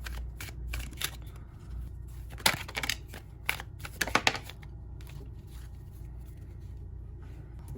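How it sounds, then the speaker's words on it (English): Tarot cards being drawn and handled from a deck, a few crisp papery flicks and snaps with two brief louder shuffling bursts, close and otherwise quiet over steady low room noise, no talking. "now I'm going to pull a couple of more clarification cards here"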